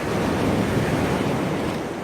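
Rough sea surf washing onto a beach near Benidorm after a storm, a dense, continuous roar of breaking waves mixed with wind buffeting the microphone.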